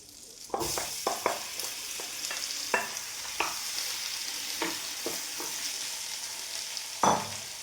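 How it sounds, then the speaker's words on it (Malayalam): Banana pieces fry in melted butter in a pan, giving a steady close sizzle broken by several sharp clinks and scrapes of stirring, with no voices. "മെൽറ്റായിട്ടുണ്ട് അതിനകത്ത് ഞാൻ ഈ പഴം ഇട്ട് കൊടുക്കാം"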